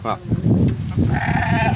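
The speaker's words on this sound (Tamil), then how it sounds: "இங்கே ஒரு 150 செம்மறியாடு இருக்குது" Sheep in a flock of about 150, raised by free grazing on a meat farm, bleat close by in overlapping calls while someone talks over them.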